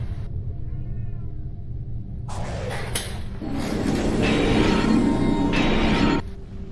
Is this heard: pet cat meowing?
yes